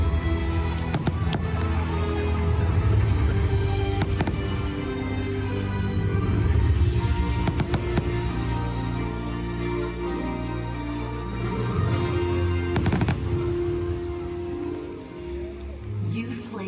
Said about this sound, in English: Here it comes. First fireworks.